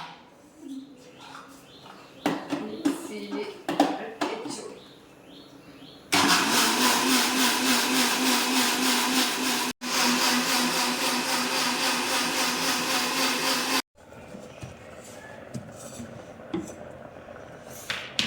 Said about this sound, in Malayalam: തേങ്ങ നമുക്ക് അരച്ചെടുക്കാം കേട്ടോ.